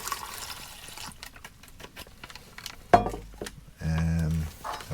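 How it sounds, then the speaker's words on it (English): Leftover water is poured into a canteen, heard as a short, close gurgling fill after a few handling knocks and clatters, with a brief sharp clunk just before the pour. "I got some water left over here, so we're just going to pour that in."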